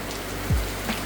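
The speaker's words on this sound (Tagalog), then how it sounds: "sobrang lakas ng ulan" Heavy storm rain pours steadily onto surfaces, a dense and constant wash of patter heard close, with a brief low thump partway through.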